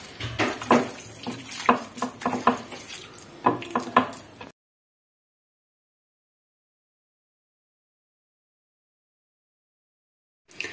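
An onion being sliced into rings with a knife on a board, a rapid run of close, crisp cuts and knocks for about four seconds, then silence until a faint tap at the very end.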